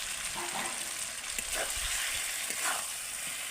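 Fried potato and eggplant are stirred slowly into a sizzling spice masala, with a steady soft frying hiss and occasional gentle spatula scrapes, close but moderate in level.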